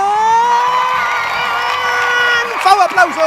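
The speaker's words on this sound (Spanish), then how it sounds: "Aplausos, por favor." A studio audience cheers and applauds a philosopher guest on a Spanish-language talk show. The crowd noise is loud and sustained, with a bright held tone running through it, and breaks into scattered whoops near the end.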